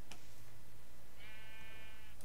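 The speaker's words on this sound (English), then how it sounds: "Sheep. Sheepy sheep, sheep." A single Minecraft sheep gives one drawn-out, wavering bleat, fairly quiet over a steady low background hum in the video game.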